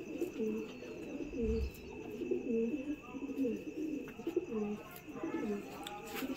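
Pigeons kept in a loft coo repeatedly in soft, rhythmic rolling calls, fairly close but quiet, with a voice talking over them.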